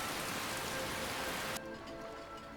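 Steady rain hisses in Skyrim with the Nordic Souls mod, a close, dense downpour of drops that suddenly thins to a softer, quieter patter partway through.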